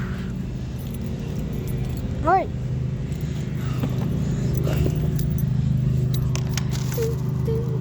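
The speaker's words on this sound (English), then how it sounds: "The keys, where the keys? Okay, they're right here." A set of keys jangling near a grandfather's truck, a few faint metallic clinks scattered under steady low engine or road hum, with a person talking briefly.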